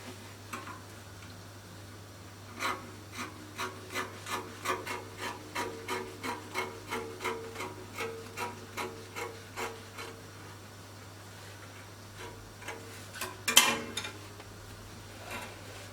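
Scissors snip through Ankara fabric in a quick series of about fifteen soft, regular crisp cuts, close and fairly faint over a low steady hum, with no talking.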